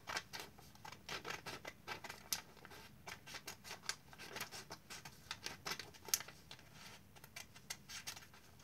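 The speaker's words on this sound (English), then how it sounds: "with these scissors, I'm going to cut off these little lines" Quick, rhythmic snips of scissors cutting through paper, close and soft, repeating steadily in short crisp strokes.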